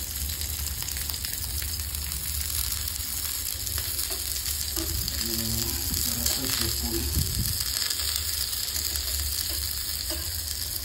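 Fish fingers frying in hot oil, a dense continuous loud sizzle with spitting splatters throughout and a voice murmuring briefly underneath midway.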